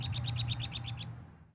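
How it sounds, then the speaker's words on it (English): Birds chirp outdoors at a spring festival in a rapid, even run of bright repeated notes that stops abruptly, leaving a low background hum that fades out. "take in the sounds of the birds chirping"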